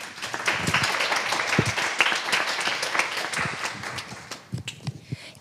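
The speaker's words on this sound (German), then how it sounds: "würde ich bitten, dass dann immer nach jeder Vorstellung ein kleiner Applaus kommt" A small audience applauds at a discussion event, a moderate burst of scattered clapping with some louder individual claps, tapering off toward the end.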